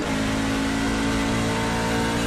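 A NASCAR truck engine in iRacing at Watkins Glen holds a loud, steady high-revving drone throughout, constant and close with no pauses or speech.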